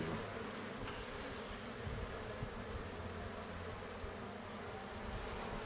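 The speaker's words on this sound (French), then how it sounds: "Donc ça c'est un essaim récupéré l'année passée." Dense, steady buzzing of a recovered honeybee swarm at an opened hive, a close, continuous drone filling the whole stretch with no voices.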